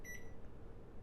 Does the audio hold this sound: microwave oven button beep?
yes